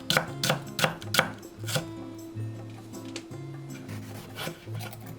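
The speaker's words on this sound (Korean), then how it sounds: "탕수육 고명으로 양파 약간 굵게 채 썰고" A knife cuts onion into thick strips on a cutting board for a Korean sweet and sour mushroom dish, with a run of quick, sharp chops, a pause of soft rubbing, then more chops close by.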